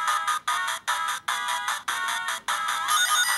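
Sonic ring pickup chimes and game music play on a Sega Camega handheld Mega Drive, as bright, repeated electronic bursts in a quick rhythm with short gaps, slightly distorted, loud and with no talk.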